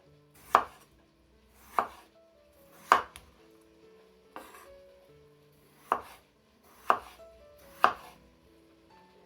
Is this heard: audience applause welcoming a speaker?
no